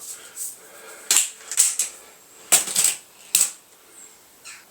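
A Weihrauch HW30K spring air rifle fires at a 35-metre target, several sharp cracks with short metallic rattles spaced a second or so apart, loud and close, with no talk.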